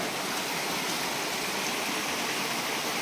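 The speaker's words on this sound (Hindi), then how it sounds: "ये देखिए नीचे पानी गिर रहा है, नीचे पानी गिर रहा है देखिए।" Water pouring down a hill stream inside a forest near Sitakund, a steady, loud rushing wash with no breaks, close by, with nobody talking.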